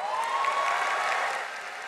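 An audience at a beauty pageant stage show applauds for the contestants, a dense, steady wash of clapping from a large crowd that thins slightly toward the end, with a faint voice underneath.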